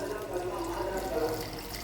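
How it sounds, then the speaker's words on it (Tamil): Water pours steadily into a pot of simmering egg curry gravy, a continuous splashing gurgle heard close up for a couple of seconds. "குழம்புக்கு தண்ணி சேர்த்துக்கலாம்"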